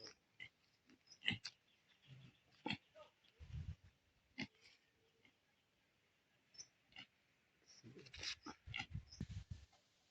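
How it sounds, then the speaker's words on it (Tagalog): Pet pigs kept at a home in Barangay Salasad, Magdalena, give short grunts and squeals in scattered bursts, with a denser cluster near the end against a quiet background. "may alaga silang baboy"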